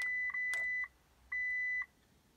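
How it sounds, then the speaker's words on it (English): A car alarm chirps twice on unlock: two short, loud electronic beeps about a second apart, each a steady tone, with quiet pauses around them and no talking. "Imelia tip tip mara mbili. Imebip mara mbili."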